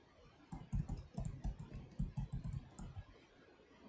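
An email being typed on a computer keyboard, a close run of quick clicking keystrokes in uneven bursts, heard alone without speech.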